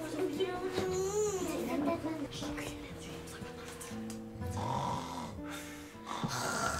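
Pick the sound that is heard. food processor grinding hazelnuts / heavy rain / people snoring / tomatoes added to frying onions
people snoring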